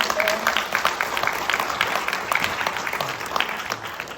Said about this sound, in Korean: 큰 박수와 함께 시작을 알리도록 하겠습니다